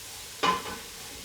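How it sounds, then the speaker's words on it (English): Herbs and leeks frying in a pan get stirred through, a single short scraping burst of sizzle rising abruptly and fading over a faint background hiss. "put them in as well. Give them a good stir through."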